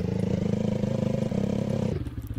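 A motorbike engine ridden in a Minecraft Jurassic World mod drones steadily and close with a rough, pulsing rumble, then drops to a lower idle near the end.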